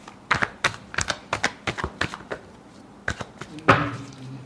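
Tarot cards being shuffled by hand, a series of crisp riffling clicks and taps in quick irregular bursts, close and fairly soft, with no talking.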